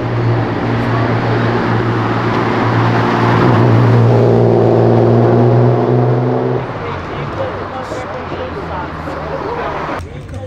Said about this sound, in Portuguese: O cara tava acelerando a BM.